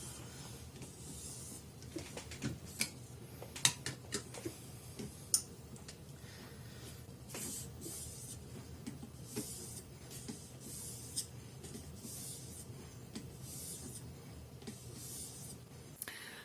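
Knife edge drawn across fine-grit stones on a Hapstone M2 sharpening system in long sweeping strokes, heard as repeated soft scraping passes with occasional sharp ticks over steady background noise, nearby and without talk.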